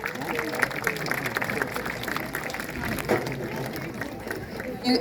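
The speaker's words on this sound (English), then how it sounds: "we can give them a huge round of applause" An outdoor crowd at a birds-of-prey flying show applauds volunteers, a lively patter of clapping mixed with cheering voices and chatter, steady and moderately close.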